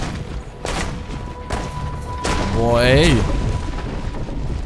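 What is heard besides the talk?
gunfire shooting at player in Assassin's Creed Brotherhood video game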